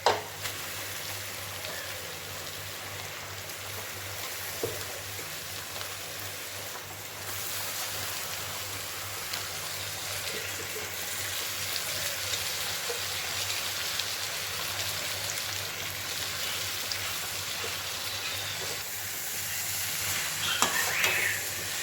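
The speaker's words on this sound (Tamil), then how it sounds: "அப்படியே மிக்ஸ் பண்ணிடணும்." Egg noodles mixed and frying in a pan, giving a continuous hiss and sizzle with occasional scraping stirs, steady and close for the whole stretch.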